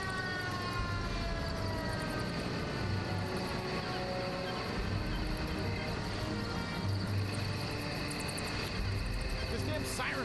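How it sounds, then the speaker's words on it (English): A wailing siren in the war strategy video game Men of War: Assault Squad 2 rises and falls steadily over a rumbling battlefield backdrop, continuous throughout. "This damn siren's really freaking me out."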